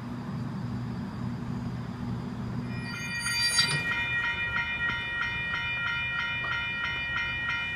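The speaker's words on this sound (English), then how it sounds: "we're just waiting for the city service to arrive on platform 1. So, yeah, the trains will cross over." A Sydney Trains city service train pulls into a platform at night, its wheels starting a high, steady squeal partway through and holding above a low rumbling hum as it rolls in.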